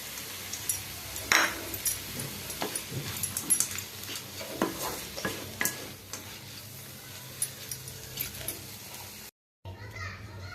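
Kosala saag with potato and fried vadi pieces stir-frying in a pan, a soft continuous sizzle with scraping stirs, mixed with background children's voices and household noise.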